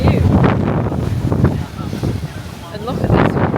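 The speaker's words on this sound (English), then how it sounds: "It's so windy, guys. The wind is really bad." Strong wind buffets the microphone outdoors on a Greek island, in heavy, gusting low rumbles that rise and fall across the clip, with faint voices underneath.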